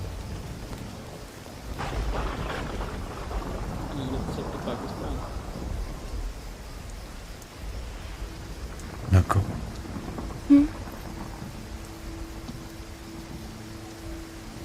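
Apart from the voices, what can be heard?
rain and thunder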